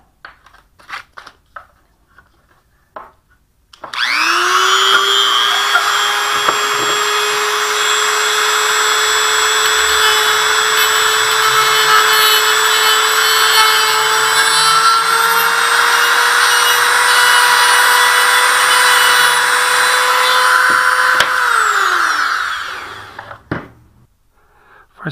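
A narrow fiber-mesh-reinforced cutting wheel grinds the edge of a sash profile scraper, a loud, steady high whine that runs for about eighteen seconds before spinning down, with scattered small clicks around it.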